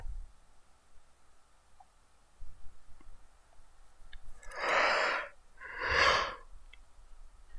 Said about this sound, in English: Yeah, I'm yawning.